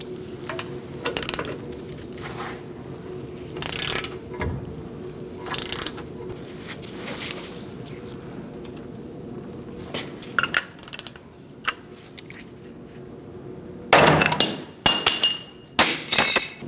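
A ball joint is forced loose with a puller on a 2004-2012 Chevrolet Colorado front suspension: scattered metallic clinks and taps give way to a cluster of sharp, loud cracks and clanks near the end.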